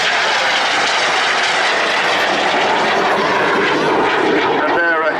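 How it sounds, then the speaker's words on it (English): A BAC Jet Provost jet trainer roars loudly and continuously overhead at an airshow, a broad rushing engine noise that holds steady throughout. "Little jet basic trainer. Very elegant little aeroplane."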